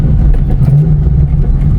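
A Ford Cobra with 25,000 miles, called the Black Mamba, cruises at 50 to 60 mph, its engine giving a steady, close, low droning rumble with road noise and no sharp revving.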